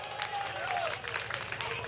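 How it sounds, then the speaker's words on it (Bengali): Audience applause at an orchestra stage show, a steady patter of clapping from a crowd with a voice speaking over it. "শানদার জন্য একটা জোরে হাততালি হবে"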